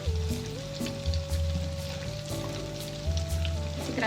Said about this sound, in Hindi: तो आपने इसे मीडियम फ्लेम पर ही फ्राई करना है।